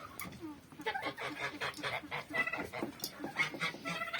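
Domestic turkeys kept with geese, gobbling and clucking in a close, busy flock while feeding on potatoes, with overlapping calls throughout and a faint voice in the background.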